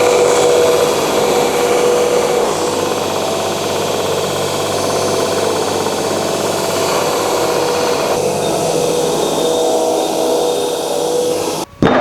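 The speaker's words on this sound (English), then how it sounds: "I'll do that with an old 60 grit belt on the belt grinder." Belt grinder running an old 60 grit belt against zirconium, a loud, steady, close grinding roar that holds unbroken for the whole stretch and cuts off abruptly at the end.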